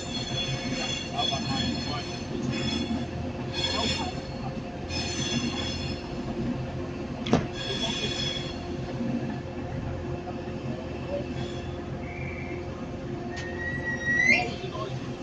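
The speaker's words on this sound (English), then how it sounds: "This train will soon be departing." A train departs a platform at Manchester Piccadilly station with a steady rumble and rolling wheel noise, some squeal and a sharp clank, while station announcements and other voices sound over it.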